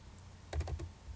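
Shift+P pressed on a computer keyboard, a quick cluster of three or four soft clicking key taps, near and quiet, with no talking.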